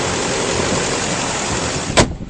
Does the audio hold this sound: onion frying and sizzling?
no